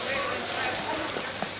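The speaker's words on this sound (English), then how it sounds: "It's raining." Rain falls steadily in a 1941 British film scene, a constant close hiss of drops on surfaces that stays even throughout with no clear talk.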